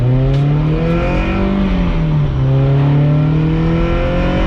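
A race car engine at a Gridlife Midwest motorsport festival, capable of 9,000 RPM, revs loudly and continuously, its pitch climbing, dipping and rising again across the whole stretch without pause.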